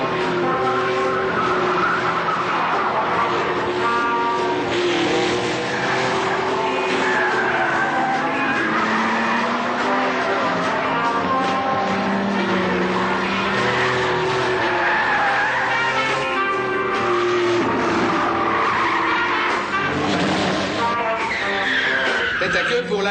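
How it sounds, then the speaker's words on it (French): The Alpine number 30 rally car spins out, its tires skidding and squealing over a straining engine, loud and continuous, with a commentator talking over the sound throughout. "Tête à queue pour l'Alpine numéro 30 de Christian Dolin qui repart."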